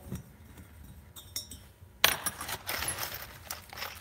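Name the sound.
metal nuts and bolts clinking while rummaged through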